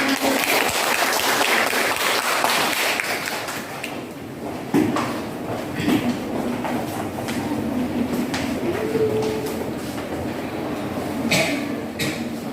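A classroom group claps in a burst of applause that fades after a few seconds, followed by quieter room noise and scattered sounds.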